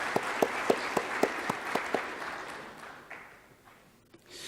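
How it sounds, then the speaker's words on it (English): A seminar audience in Dubai applauds the speakers with steady, rhythmic claps over a broad wash of clapping that fades away toward the end. "Give her a big round of applause to incoming chairman."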